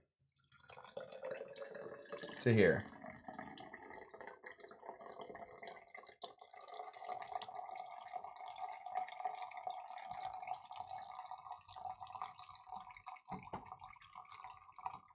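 A frosty shaken cocktail is poured straight from the shaker: a sharp splash at the start, then a thin, steady liquid trickle and faint drips. A voice speaks briefly.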